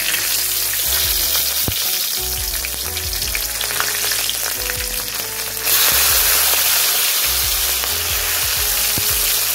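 Green chilies drop into hot oil left from frying eggs and sizzle steadily, with a crackling spatter that swells louder toward the end, close by and with no talk.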